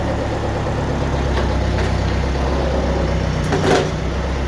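An old Husqvarna (Husky) 51 chainsaw idles steadily after being run up, a continuous close engine drone with a faint rise near the end, cutting beech firewood outdoors.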